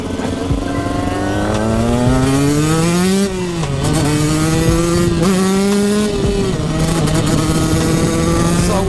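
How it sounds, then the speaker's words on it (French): A KTM 125 EXC two-stroke dirt bike revs hard and close, its buzzing engine climbing and dropping in pitch through several sharp throttle blips and gear changes, loud and continuous. "son ancienne moto, 125 EXC"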